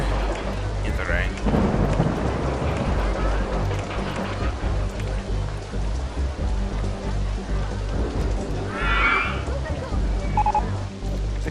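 Heavy rain pours steadily in the OpenRCT2 theme-park game while low thunder rumbles roll underneath, loud and continuous, with a couple of brief higher game chimes over the storm.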